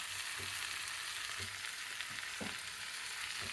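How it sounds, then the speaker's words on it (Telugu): Ivy gourd pieces with coriander, green and dried red chillies fry quietly in a pan, a steady hiss punctuated by several soft knocks of stirring. "అన్నీ వేసి కలుపుకొని ఒక 5 నిమిషాల వరకు వేయించుకోవాలి."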